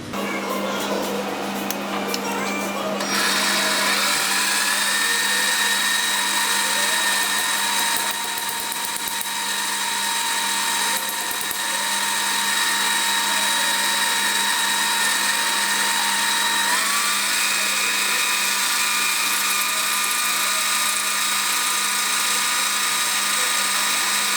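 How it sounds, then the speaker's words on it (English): A power drill whines steadily and loudly up close, boring a hole into metal for a model steam engine part without pause and with a high grinding edge throughout. "I'm only going to show me drilling a hole in one of these"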